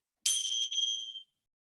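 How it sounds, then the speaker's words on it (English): A single bright bell strike rings out clearly and fades over about a second, alone in silence. "Hit the bell."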